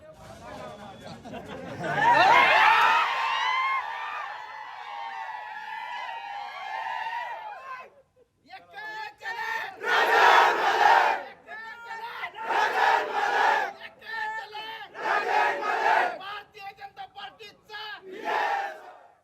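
A crowd celebrating a BJP election win in Anagar, with loud collective shouting and cheering that rises in repeated surges, mixed with excited voices and chatter.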